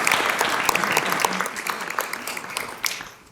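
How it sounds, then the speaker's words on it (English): Applause from the audience at a school board meeting for students, moderate and slightly distant with distinct sharp claps, thinning and fading out toward the end. "I would just like to give a huge round of applause for all of our students that came with us."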